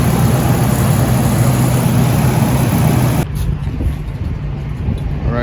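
A Ford F-250 Super Duty with a 6.8-litre V10 runs as a loud, steady engine drone heard from close by, then drops abruptly to a quieter, duller hum partway through.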